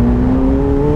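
A McLaren 750S engine pulls hard in third gear, a loud, steady, slightly rising roar with a strong engine tone, heard from close by for about a second.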